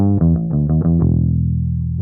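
Bass guitar through the Seismic Bass Suite amp plugin with a 1x15 cabinet and a 421-style microphone, a quick run of about eight distorted plucked notes followed by a sustained ringing note, loud and close with no talking.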